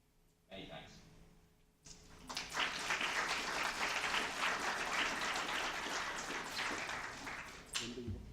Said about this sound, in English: I can see on the video you're clapping.